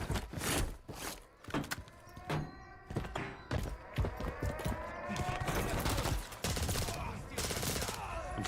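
Gunfire from the Vel rifle in Modern Warfare 3 comes as a rapid series of sharp, loud shots and thumps in bursts, with mechanical clatter between them.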